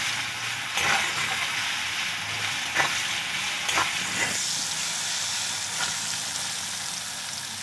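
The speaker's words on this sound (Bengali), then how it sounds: "পেঁয়াজগুলো ভালো করে ভেজে নেব।" Sliced onions frying with salt in a hot pan, a continuous bright sizzle with a few sharp stirring scrapes punctuating it, close up and without talk.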